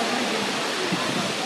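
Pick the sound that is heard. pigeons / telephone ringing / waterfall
waterfall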